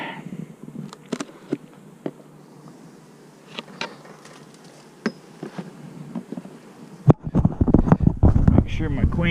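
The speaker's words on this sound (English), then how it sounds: "Seem to be a lot of bees in this one" Honeybees hum around an opened hive in a bee yard, a steady low buzz with individual bees zipping close past the microphone, while wind and handling noise grow louder toward the end.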